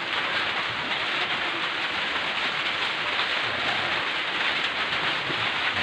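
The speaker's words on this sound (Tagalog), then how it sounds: "Saka ayan umulan na naman guys." Heavy rain pours steadily and loudly in a dense, even hiss of drops on surfaces, with no voices.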